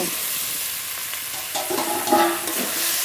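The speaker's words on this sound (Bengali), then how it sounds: "এবার একটু নেড়ে নেব। মশলা আলু একটু নেড়ে নিয়েছি" Fried potatoes stirred into cooked spice paste in a pan, a steady oily sizzle with a few scraping strokes of a spatula, close and continuous, no talking.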